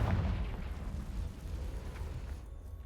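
Confringo fire spell blast in the Hogwarts Legacy video game near an Acromantula cave: a deep, rumbling, explosive roar that swells at once and then decays over a few seconds, loud and close, with no talk.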